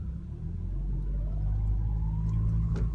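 A Nissan Micra K11 reverses slowly after a brake fluid renewal. There is a steady low engine rumble and a faint rising whine as it rolls back.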